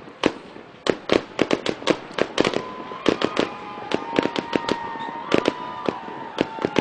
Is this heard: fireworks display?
yes